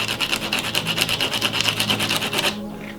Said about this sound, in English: The first method I'm going to show you is scarifying with sandpaper.